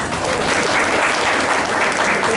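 Sustained applause from an audience at a residents' society meeting on maintenance payments, a dense, even clatter of many hands clapping close by with no break.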